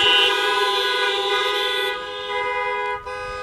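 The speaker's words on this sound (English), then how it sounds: "Let's celebrate with a honk." Car horns blare in a loud, sustained honk lasting several seconds, the tone shifting as the horn sound fades near the end.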